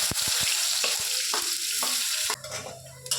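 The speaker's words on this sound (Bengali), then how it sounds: "রসুনটা একটু ভাজা ভাজা হয়ে গেছে, হালকা লালচে হয়ে গেছে" Garlic frying in hot oil with a steady close sizzle, punctuated by several sharp utensil knocks and stirring scrapes, then a brief quieter pause before the hiss resumes.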